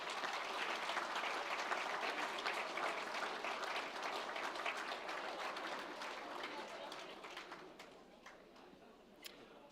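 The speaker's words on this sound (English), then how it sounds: "So perhaps a round of applause for your families." Applause at a university graduation celebration, in honour of graduates' families, rises as a dense, steady wash of clapping that slowly thins out, leaving a few scattered claps near the end.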